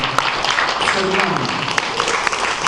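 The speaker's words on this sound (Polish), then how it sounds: "gorące brawa, gorące brawa za to, że tworzył" An audience at a 2013 local talent show gives a freestyle performer dense, sustained applause, with a voice talking through the clapping.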